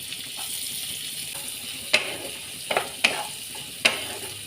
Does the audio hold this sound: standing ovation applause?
no